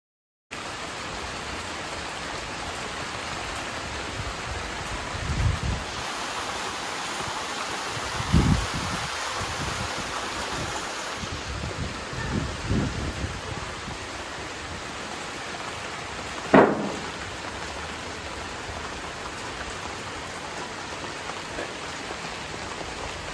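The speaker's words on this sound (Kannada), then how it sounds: "ನೋಡಿದ್ರಿ ಅಲ್ಲ ಎಷ್ಟೊಂದು ಮಳೆ ಬರ್ತಾ ಇತ್ತು" Heavy morning rain pours down in a steady, dense hiss, with a few louder close splashes and knocks standing out against the constant downpour; no one speaks.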